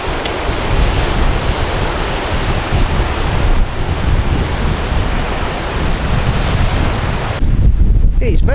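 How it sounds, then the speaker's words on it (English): Strong wind buffets the microphone over steady crashing surf on a rocky shore beside a pier, a loud, continuous roar throughout with a sharper gust near the end. "It's very windy down here,"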